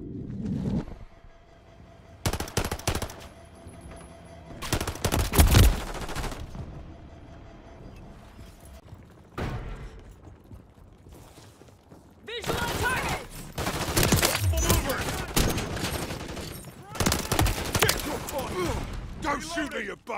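Gunfire from a Modern Warfare 3 multiplayer match: sharp bursts and volleys of shots crack out in clusters, some close and loud, with a dense stretch of rapid fire toward the end and voices talking over the action.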